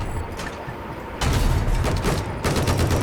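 Rapid bursts of gunfire in a shooter video game, a short volley followed by louder sustained automatic fire, close and sharp with brief gaps.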